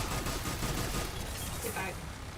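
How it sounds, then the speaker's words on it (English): Turret firing in the sci-fi shooter game Mass Effect 3, a dense continuous barrage of rapid shots filling the whole clip, loud and close, with a voice speaking over the gunfire. "Oh, that's a turret."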